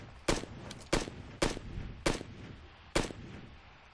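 Five sharp, separate gunshots ring out at uneven intervals about half a second apart, each with a short decay, during a match of the video game PUBG Lite.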